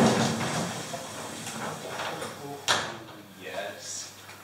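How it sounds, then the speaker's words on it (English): A roller door on a garage rattles and rolls up, a sharp clunk partway through followed by fading rolling noise, with people talking. "I'm gonna go in here and then I'll roll the door up"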